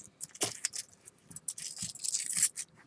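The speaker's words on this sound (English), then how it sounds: "I literally just hook my keys in here, okay?" A bunch of keys jangles and clinks in short irregular bursts as it is tucked into a stretchy running belt, close and fairly quiet with no talk.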